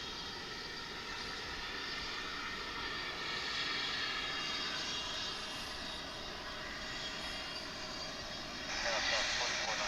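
A fixed-wing airliner inbound from Lawton approaches DFW airport, its engine roar a steady distant drone that swells slightly toward the end, heard outdoors at an airport viewing area.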